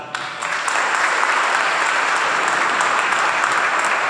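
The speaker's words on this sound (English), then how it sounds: "a round of applause to A.G. and Jamila" Wedding guests applaud the newly introduced couple, a dense, steady wash of clapping that swells in within the first half second and holds loud and even throughout, with no voices standing out.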